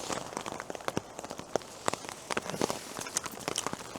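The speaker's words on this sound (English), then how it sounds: "Bit of rain dropping." Rain falling on a Nortent Vern 1 tent in gusty weather, close scattered drops pattering in an irregular rhythm on the fabric over a soft background hiss, with no talk.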